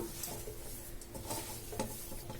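Soft, close stirring and scraping of a spoon in a pan as leftover idli snack masala is mixed, in a few light strokes over a faint background hum, ending with a sharp clink.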